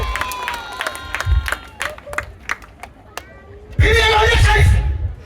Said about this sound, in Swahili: Piga Yesu makofi tuendelee